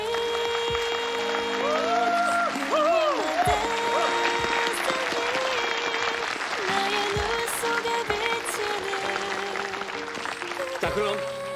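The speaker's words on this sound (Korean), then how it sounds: "큰 박수 부탁드리겠습니다." Wedding guests clap steadily throughout a ceremony, a dense wash of applause running beneath music with a singing voice and tones that rise and fall, fairly loud and sustained for the whole stretch.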